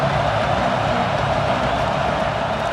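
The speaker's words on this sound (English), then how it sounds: "Here comes the noise from this big crowd in Happy Valley on third down." A big stadium crowd in Happy Valley roars on third down in the College Football 26 video game, a dense, steady wall of cheering and noise that holds level throughout without distinct voices.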